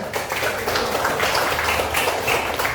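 Classroom applause from students during a teaching practice lesson, a dense steady patter of many hands clapping at close range for nearly three seconds, with no clear voices over it.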